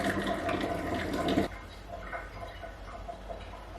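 Liquid is poured while making blueberry date mead, a splashing, gurgling stream for about a second and a half that then stops, leaving quiet trickles and small kitchen handling sounds.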